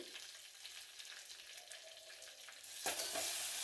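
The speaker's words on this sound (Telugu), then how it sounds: "ఫ్రై అయిన తర్వాత కొంచెం వెల్లుల్లిపాయ కూడా వేసుకోండి" Garlic fries in hot oil with cumin and mustard seeds for tomato dal, a quiet steady sizzle with faint stirring that swells louder toward the end, no voices.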